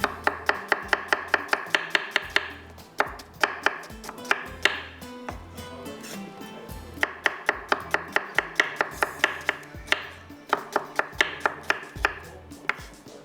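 Onions being sliced with a knife on a board in a home kitchen, brisk rhythmic chopping in quick bursts of sharp taps with short pauses between runs, close and clear with no voices.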